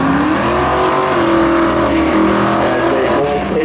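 The engine of a 1984 Camaro Z28 drag car idles and revs hard at a spectator drag-racing meet. It is a loud, close, continuous rumble with no break.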